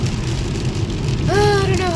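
Rain falls outside during a rainy day at home, a steady, close hiss of drops on surfaces; near the end a short rising, tonal voice-like sound rises above it.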